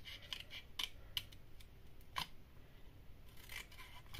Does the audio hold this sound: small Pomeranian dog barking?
no